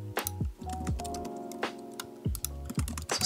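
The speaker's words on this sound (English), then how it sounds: "So I'm just going to type in 3 names." Typing names on a computer keyboard, with quick light key clicks in an uneven run over a low background hum and no speech.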